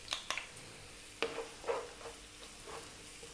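Onion and garlic frying in olive oil in a pan over medium heat give a soft, quiet sizzle, with a few brief scrapes and stirring clicks scattered over a few seconds.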